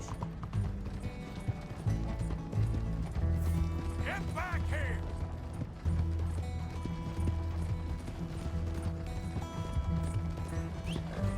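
Galloping hoofbeats clatter steadily over game music and mechanical clicks in Red Dead Redemption 2, with a brief horse whinny and someone shouting.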